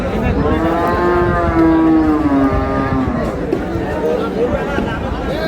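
Cows and calves at a busy village cattle market low for several seconds, with long, loud, close moos overlapping one another against a constant background of crowd noise.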